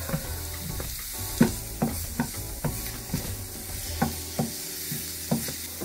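Ginger garlic paste fries in a pan while being stirred, steady sizzling broken by repeated clinks and scrapes of the spoon against the pan, close and moderately loud with no talking.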